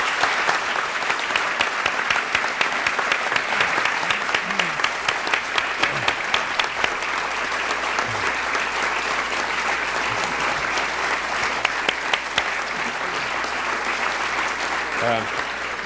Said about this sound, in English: join me in giving a very warm round of applause to a real profile in courage